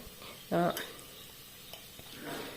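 Spices, including dried fenugreek leaves, stir and fry softly in a pan for a fenugreek-leaf and sprouted green gram dish. A short burst of talk briefly rises over the faint scraping and sizzle.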